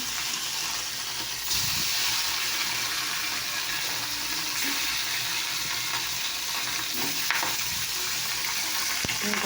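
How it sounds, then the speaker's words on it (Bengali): Fish roe frying in a pan gives a steady, close sizzle and bubbling hiss that swells slightly after the first couple of seconds and continues evenly to the end. "তো দেখো বন্ধুরা, ডিম ভাজা হচ্ছে, এটা মাছের ডিম ভাজা হচ্ছে"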